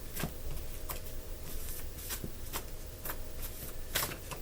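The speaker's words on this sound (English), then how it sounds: "I'm gonna pull 2 more cards." Tarot cards being handled and pulled from a deck, soft repeated card flicks and riffles at a fairly even pace, close and faint against a steady background hiss.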